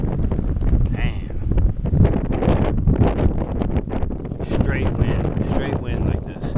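Strong, steady wind blows outdoors, roaring and buffeting the microphone loudly and without a break for the whole stretch.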